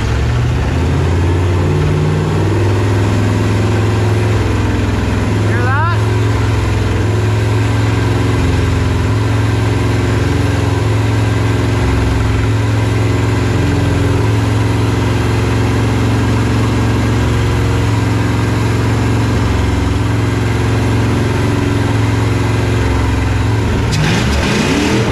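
A car engine runs steadily at idle for the whole stretch, its low rumble rising slightly in pitch now and then as it is revved.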